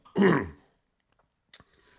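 A single throat clearing, close and fairly loud, followed after a pause by a few faint clicks and light handling noises.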